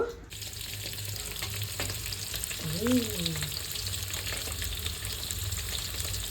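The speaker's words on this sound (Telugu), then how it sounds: "ఇవి బ్రౌన్ ఆనియన్ అయ్యే వరకు వేయించుకోవాలి." Onions fry in a pan until browned, a steady close sizzle with faint stirring scrapes running through, and a short hum or voice-like tone briefly rising over it near the middle.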